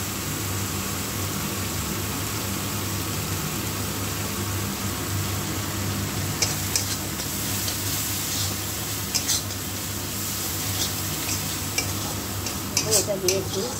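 Spices with jaggery and coriander powder sautéing and being stirred in a pan for a Bengali dish, with a loud continuous close sizzle and a low steady hum, and brief clinks of stirring toward the end.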